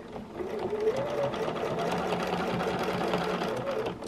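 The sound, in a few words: sewing machine stitching a circle with a quilting ruler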